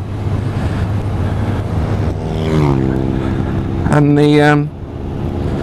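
A Honda CB650R four-cylinder motorcycle engine revs up in two rising bursts, the second loud and short, behind a brief spoken remark.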